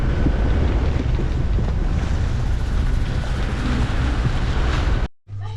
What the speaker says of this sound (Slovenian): Je kar hudo, če dalje bolj piha, še nevihta bo.